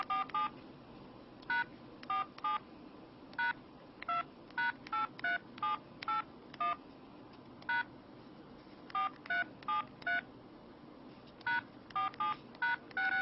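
A Samsung Trance phone for Verizon plays short keypad tones while text is typed, sounding as quick bursts of single and repeated beeps with pauses between, clear and alone.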